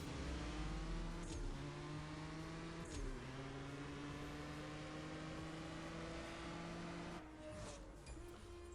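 Ferrari LaFerrari race car in CSR Racing 2, video game, with a loud, sustained high-revving engine note that climbs through quick gear shifts, the pitch dropping and rising again at each change.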